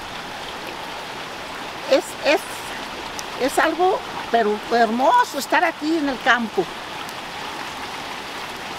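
Water flowing at a countryside spring, a steady soft rushing hiss running throughout while someone speaks over it in the middle.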